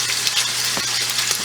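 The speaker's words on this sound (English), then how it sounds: "So you hear that sizzling? That's exactly what we want to hear." Bacon sizzling and crackling in a hot pan, a dense continuous hiss with a few sharper pops.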